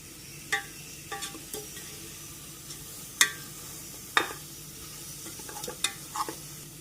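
Turmeric powder stirred into beef in a pan, a soft continuous sizzle broken by scattered scraping and clacking spoon strokes, fairly quiet and close.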